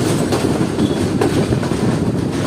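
Sir Syed Express rolling slowly into the main platform at Jhelum railway station after changing tracks, a loud continuous rumble with rhythmic clickety-clack of wheels over rail joints, close by.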